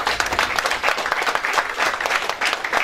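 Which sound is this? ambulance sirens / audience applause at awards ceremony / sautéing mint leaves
audience applause at awards ceremony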